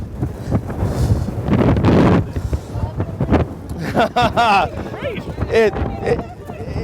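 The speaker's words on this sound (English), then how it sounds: "It's so windy that the machine is actually not operating because it's too windy." Strong wind buffets the microphone at a wind turbine site in Hull, where gusts are high enough that the turbine has stopped; loud broadband rushing fills the clip while people talk over it.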